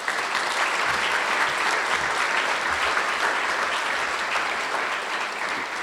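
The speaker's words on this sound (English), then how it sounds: "Let's give them a round of applause." Sustained, steady applause from an audience at the opening of a community resource center, honoring the contractors and their team, dense and even throughout with no voices on top.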